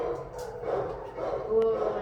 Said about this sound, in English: you can see the bark was frustration